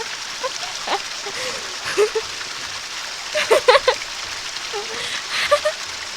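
A shower head sprays a steady hiss of falling water with splattering droplets, and a voice murmurs faintly over it at a few points.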